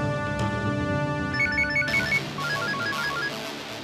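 A telephone rings with a repeating electronic tone, loud and close over a faint musical bed in an indoor drama scene, the ring pattern cycling several times.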